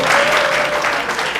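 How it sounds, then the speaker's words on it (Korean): A crowd at a property sales presentation in Orange County claps in a brief, loud burst of dense applause with no voices over it. "박수 한번 주십시오."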